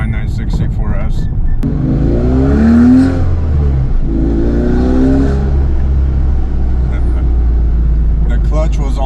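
A 2003 Porsche 911 C4S engine revs and pulls through two rising acceleration sweeps, loud and close, with a steady drone underneath and brief voices at the start and end.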